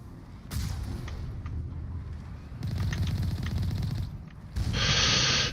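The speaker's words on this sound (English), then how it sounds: "Baiting shots from the turrets is so easy" Turret gunfire in Mass Effect Legendary Edition comes in three loud sustained bursts of rapid automatic fire separated by short gaps, the last burst sharper and more hissing, with no talk.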